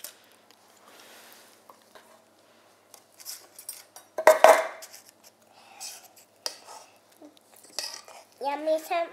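Yeast muffin dough is stirred in a bowl with a utensil, producing sparse clinks and scraping taps against the bowl, with quiet talk and a voice between the strokes.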